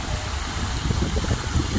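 A waterfall on a stream beside a tent campground in Saraburi, Thailand, makes a steady, close rush of falling water. The broad hiss is continuous and stays even, with no voices over it.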